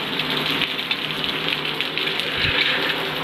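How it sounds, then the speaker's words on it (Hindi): Heavy rain pours steadily as a dense, even hiss that fills the whole stretch, close and loud with no voices over it. "देखिए कितनी जम की बारिश हो रही है"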